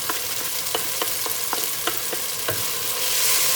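Tomato masala with Malvani masala, garam masala and chili powder fries loudly in a pan for shrimp rice, with a spoon scraping and tapping in a steady stirring rhythm.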